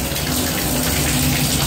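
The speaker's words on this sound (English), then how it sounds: "there's a nice good flow of water coming out" Water gushes from a Moen Posi-Temp shower valve riser during a plumbing install, a loud, steady rushing flow that stays constant throughout.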